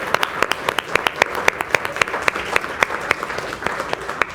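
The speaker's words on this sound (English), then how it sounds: "So a big round of applause for all of those people." An audience at a health service innovation showcase claps for the conference staff, a steady patter of applause with sharp individual claps throughout.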